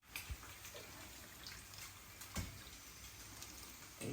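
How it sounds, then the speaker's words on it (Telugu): Cold water is poured over cooked rice being prepared for egg fried rice, giving a faint, steady rushing pour with a few soft splashes. "దీనిలో ఇప్పుడు చన్నీళ్ళు పోసేస్తాను"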